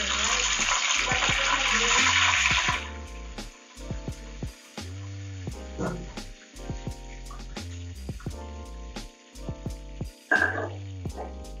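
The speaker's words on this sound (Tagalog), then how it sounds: "nagpiprito ka lang ng lumpiang Shanghai" Lumpiang Shanghai spring rolls frying in hot oil, a loud steady sizzle for the first few seconds that then gives way to softer intermittent crackles and kitchen clatter, with a dog barking briefly in the background.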